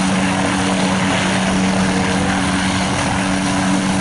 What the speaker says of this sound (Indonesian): Ini adalah mainan helikopter warna biru teman-teman ya, atau helikopter blue color.